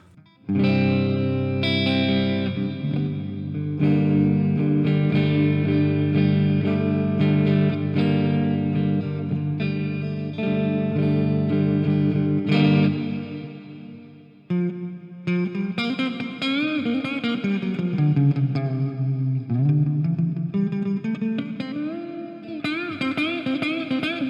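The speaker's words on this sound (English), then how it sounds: "let's just bang some reverb in" Reverb-drenched electric guitar through the Audio Assault Shibalba amp simulator on its clean channel, sustained chords giving way to a sliding, bending melodic line that rings out with a spacious tail.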